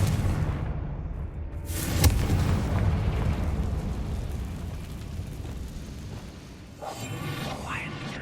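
Confringo blasting spell in Hogwarts Legacy: a sharp crack followed by a booming, rumbling explosion that decays slowly, with a second burst of noise near the end and some speech in the mix.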